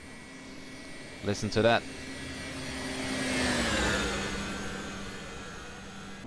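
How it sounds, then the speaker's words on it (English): Twin jet engines of an MD-80 in the X-Plane 12 flight simulator swell into a rising roar and whine that peaks midway and then eases, following a brief spoken remark. "Engines at least now sounds like engines."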